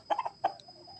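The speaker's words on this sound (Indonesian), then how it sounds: "penyakit ayam yang di tenggorokannya banyak lendir atau ngorok seperti ini" A sick chicken with mucus in its throat clucks and rattles at close range, giving a few short raspy bursts in quick succession, then a single one, then quieter wheezy breathing.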